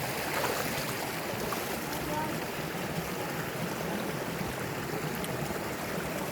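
River water flowing steadily and close by during a gold-prospecting trip along a stream near Bandung, West Java, a broad continuous rushing wash with no clear voices.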